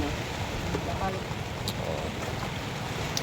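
Steady roaring storm wind in Tagaytay buffets the microphone, a broad unbroken rush with a faint watery wash beneath it.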